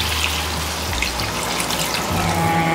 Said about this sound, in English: So, lagyan ko na siya ng water.